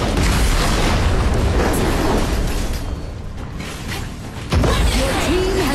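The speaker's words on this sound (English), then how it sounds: "Your team has destroyed a tower!" Tower destruction in the mobile game Arena of Valor, a loud booming blast with crashing debris over dense battle noise, followed by a second burst.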